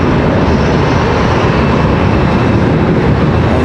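An ERJ 145 regional jet takes off at Charlotte Douglas International Airport, heard as a loud, steady, broadband engine roar that fills the whole stretch without letup.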